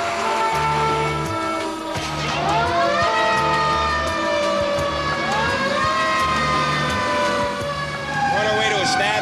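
A San Francisco fire engine wails its siren while responding to a stabbing call, the rising and falling tone loud and continuous over a deep rhythmic air-horn blast and steady engine rumble, with voice chatter underneath.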